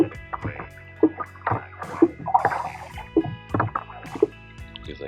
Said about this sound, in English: Now we just have to keep paddling.